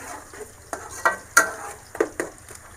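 Ginger paste and tomato frying for chicken biryani, a soft continuous sizzle broken by several sharp scrapes and knocks of a spoon against the pot as it is stirred.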